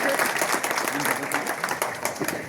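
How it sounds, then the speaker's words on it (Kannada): An audience at a Hindu conference in Raybag breaking into loud, dense applause, a continuous patter of many clapping hands close by with a voice over it. "ಜೋರಾದ ಚಪ್ಪಾಳೆ."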